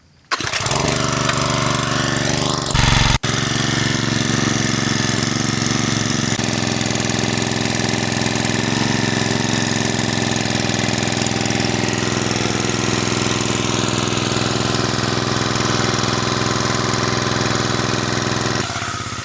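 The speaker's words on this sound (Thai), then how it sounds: "ต่อเครื่องพร้อมสาย เดี๋ยวเรามาลองสตาร์ท แล้วลองดูแรงดันน้ำกันเลย" A small engine-driven water pump connected to a spray hose is pulled to start, catches after a brief sputter, then runs loud and steady close by, a constant rough drone with no talk.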